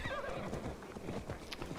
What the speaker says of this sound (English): I'm gonna ride my horse into this battle.